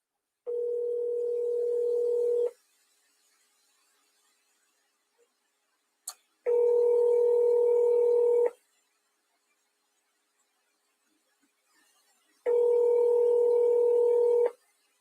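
A telephone call-back signal plays as a steady electronic tone in three loud bursts of about two seconds each, separated by long silent gaps, with one faint click between them.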